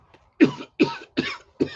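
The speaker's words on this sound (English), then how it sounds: "I start coughing." Four harsh coughs come in an even rhythm, close and fairly loud, with brief silences between them.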